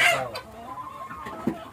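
Farm fowl call out in short clucking, crowing bursts, one loud cry at the start and another brief call near the end, close by with no talk.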